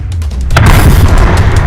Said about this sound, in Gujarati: આલે ગોળો મૂકું